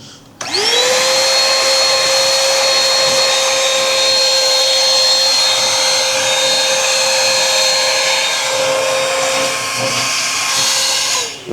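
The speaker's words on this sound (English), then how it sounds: "So grab our vacuum. Plug that in." A vacuum cleaner running at the intake port of a 2011 Audi A4, starting up and holding a loud, steady whine with a continuous hiss for about eleven seconds before cutting off; no talking.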